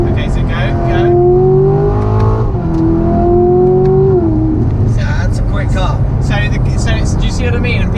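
A Corvette C7 Grand Sport Collectors Edition accelerates hard through its gears, the loud engine tone rising, dropping at a shift, then climbing again, heard from inside with a low steady rumble underneath.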